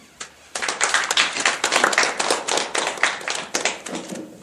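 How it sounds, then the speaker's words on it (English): A room of people breaks into applause, a dense burst of clapping that holds steady for several seconds before thinning out. "And so we should applaud you."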